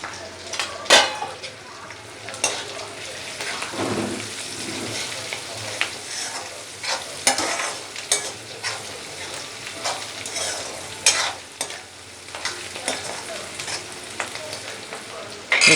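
Onions with turmeric frying in a pan, stirred repeatedly with a utensil, producing irregular scraping and clinking bursts over a steady crackling sizzle.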